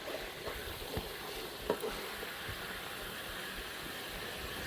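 Coconut milk simmering in a pan until its oil separates, a steady soft bubbling sizzle with a few faint stirring clicks, no voices.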